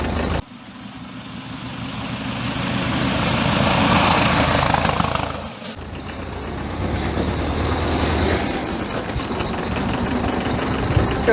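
A 1903 Napier veteran car's engine runs steadily while driving, a continuous loud mechanical roar that swells and then dips briefly near the middle before carrying on, heard close with no talk.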